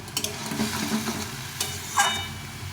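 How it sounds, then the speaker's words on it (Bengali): Bottle gourd stir-fries in a pan, a continuous close sizzle with occasional scraping and a light clink of the spatula against the pan. "লাউটা কিছুটা সেদ্ধ হয়ে গেছে এখন আমি ভালো করে এটাকে কনক কষিয়ে নেব"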